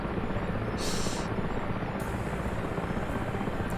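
Steady helicopter rotor and turbine drone from the DCS flight simulator, a loud continuous thrum with even blade chop filling the whole stretch and brief high-pitched whines on top.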